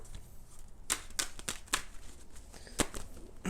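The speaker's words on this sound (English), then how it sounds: "Let's do 6 major shuffles here." A tarot deck is shuffled by hand in a quiet room, with a few separate riffling bursts spaced about half a second apart, soft and close, with no voices.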